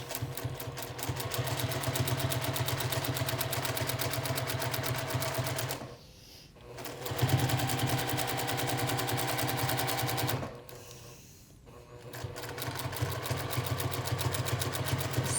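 A sewing machine runs at a fast, steady whir while free-motion quilting stitches around batting, loud and close, stopping twice for short pauses before resuming.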